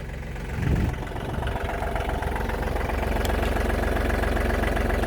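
John Deere tractor engine idling close by, a steady, loud low rumble with an even throb that holds unchanged throughout, with a brief swell near the start.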